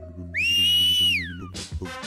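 A man gives one long, loud, clear whistle, steady in pitch then sliding down, to lure crocodiles in San José, followed by a brief noisy burst.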